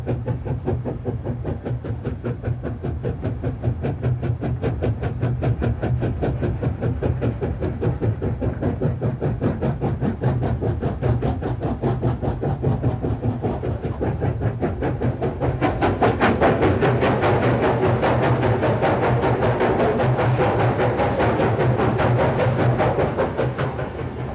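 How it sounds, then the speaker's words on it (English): A train crossing rough, treeless mountain country through a series of tunnels, heard as a steady, loud rumbling roar with a dense rhythmic clatter throughout, growing broader and more hissing partway through as if enclosed. "the train passed through one tunnel after another"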